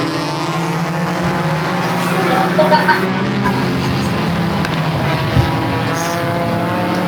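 Mini stock race cars roar off at the green flag at Peterborough Speedway, a dense, loud, continuous engine drone from the pack, with a commentator talking over it.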